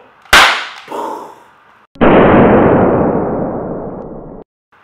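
A confetti revolver fires once: a sharp, loud crack followed by a brief rustle, then after a short pause a second longer burst that hisses and sprays broadly for over two seconds before cutting off abruptly.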